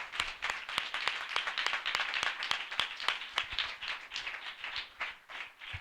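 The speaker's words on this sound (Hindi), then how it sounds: "हम जोरदार तालियों से उनका स्वागत करें" A congregation applauds at a Hindi-language church gathering: dense, steady clapping with sharp individual claps standing out, moderately close and sustained throughout with no talking.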